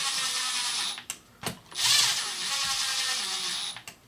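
A power drill drives screws into a Traxxas Sledge RC truck, with several whirring bursts of varying length separated by brief pauses, close and loud, and no voices.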